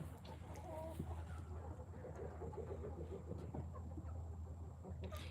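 Chickens clucking in a coop, several birds making soft, scattered clucks and murmurs close by over a constant low hum.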